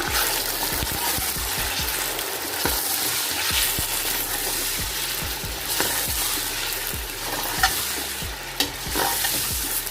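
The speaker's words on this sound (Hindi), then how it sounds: "जो कि मैंने 1 किलो चिकन लिया है हड्डी वाला। इसको मैं ऐड कर दूंगी और इसको अच्छे से भून लेंगे।" Bone-in chicken sizzling and frying in a pan for jungle pulao, with steady loud sizzle and repeated sharp scrapes and clinks of a spoon stirring against the pot throughout.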